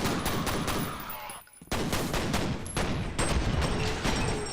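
Rapid, loud volleys of pistol shots from akimbo pistols fired in a video game, a dense stream of close cracks with a brief pause midway before firing resumes.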